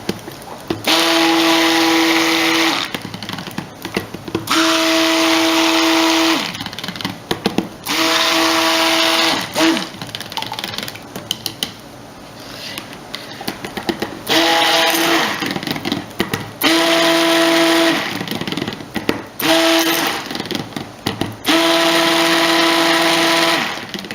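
A stick blender mixing soap whirs in loud bursts of a few seconds each, separated by short pauses, with a steady motor hum throughout.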